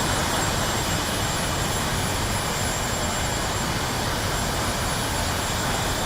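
An Airbus jet taxiing toward the runway in the DCS World flight simulator gives a steady, unbroken engine roar and whine, loud and constant throughout with no talking.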